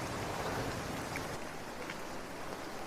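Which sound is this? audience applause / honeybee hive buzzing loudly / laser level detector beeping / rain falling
rain falling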